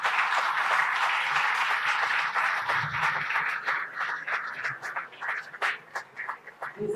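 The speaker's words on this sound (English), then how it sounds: "So with a great round of applause," An audience at the inauguration ceremony of a national conference on community ophthalmology applauds to greet the chief guest, a dense round of clapping that thins into scattered, fading claps toward the end.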